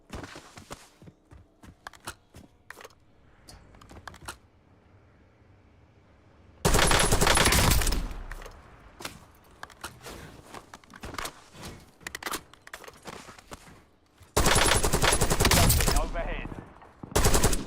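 Loud bursts of automatic gunfire come from a gun in the video game Warzone, two long sustained volleys between quieter game sounds and scattered footsteps, with a brief spoken word in between.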